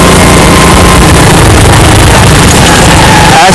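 Motorcycle riding along a sandy forest track, a loud, constant engine roar and rumble that fills the whole clip, close and heavily overloaded, with no talking.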